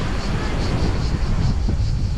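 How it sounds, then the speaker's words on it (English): Wind at Sesi beach in Greece rushes steadily across the microphone in a dense, unbroken roar with faint surf beneath, and a voice is briefly audible. "It's a little bit windy today, as you can see."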